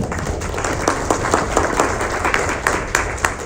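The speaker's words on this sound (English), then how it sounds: "give yourselves a round of applause" An audience at a community resilience keynote claps for itself, a full sustained round of applause with some sharper individual claps standing out, moderately loud and steady throughout.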